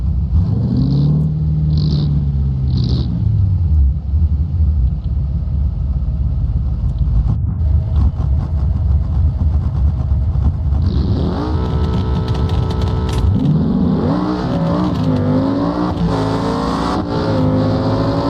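A car engine in the BeamNG driving game drones loudly and continuously, then climbs in pitch as it revs hard toward the end, with no talk over it.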